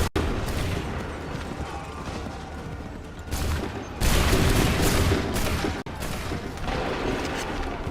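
Musket volleys fired in the video game Assassin's Creed 3, a loud, continuous roar of battle noise that swells into heavier bursts partway through.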